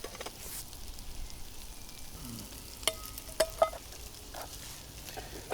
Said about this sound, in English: It is a very slow sizzle